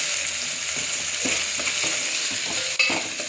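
Ginger pieces and turmeric fry in a pan with a steady, close sizzle, broken by a few soft stirring knocks and scrapes; no one speaks.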